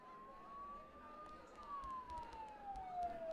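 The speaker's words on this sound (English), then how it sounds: "Don't those sirens sound really close?" A faint police siren from the game Persona 4 Golden wails as a steady, slowly falling tone at a distance under a low background rumble, with no speech.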